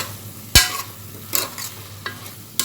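A spoon scrapes and stirs mutton kurma in a cooking pot with coriander powder and salt, giving a few sharp scraping strokes over a soft, steady sizzle, close and without talk.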